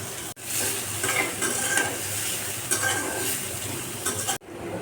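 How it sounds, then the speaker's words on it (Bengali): Chopped onion sizzles hard in hot oil, a loud and continuous frying hiss heard close up, with light scraping and stirring in the pan. There is no talking, and the sound cuts off briefly near the start and again near the end. "পেঁয়াজ কুচি তেলের মধ্যে দেওয়া হলো"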